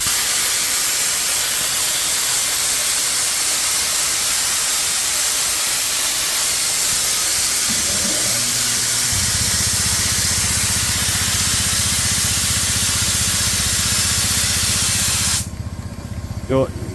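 Spray contact adhesive hissing out of an aerosol can while a car door baffle is glued: a loud, steady, close hiss lasts about fifteen seconds, a low hum joins partway through, and the spray then cuts off.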